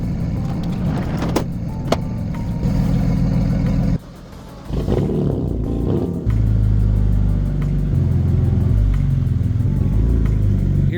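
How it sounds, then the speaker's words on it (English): A 2009 BMW Z4 30i with a naturally aspirated six-cylinder engine pulls out in deep-freeze weather, a close low rumble that drops briefly then swells into a steady throaty drone, with some clatter along the way. "Here's a 2009 BMW Z4. It's the 30i, so it's a 6-cylinder."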